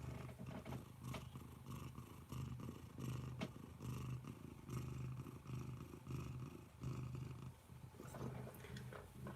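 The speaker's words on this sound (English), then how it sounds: "You'll probably hear Dylan purring" A low, steady cat purr with a rhythmic rise and fall of breaths, close and continuous throughout.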